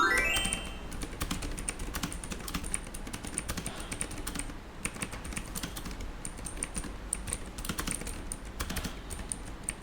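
Mechanical keyboard with linear red switches being typed on continuously, a steady stream of soft, close clicks and taps in an irregular rhythm, heard alone.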